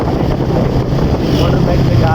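Motorcycle riding on a road trip from Haripur bazaar, with loud, steady wind buffeting the microphone and a low engine drone throughout, a voice talking underneath.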